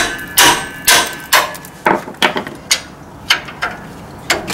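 Sharp metallic hammer blows knock parts loose from the rear brake caliper of a 2013 Ford E-350 van, about ten irregular strikes spaced through the stretch, close and loud with no talking.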